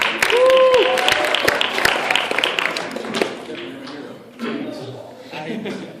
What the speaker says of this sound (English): everybody give a round of applause for Franco